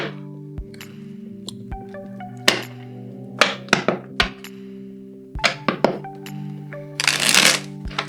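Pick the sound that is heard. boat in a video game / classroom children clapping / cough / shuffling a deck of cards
shuffling a deck of cards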